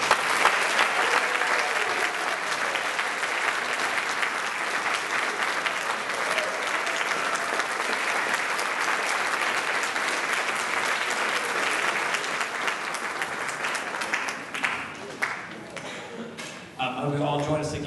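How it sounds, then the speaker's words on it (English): Steady, full applause from a school concert audience honoring the chorus, band and percussion performers, sustained clapping that thins and tapers near the end. "I've got one more round of applause for all of our chorus band percussion folks this evening"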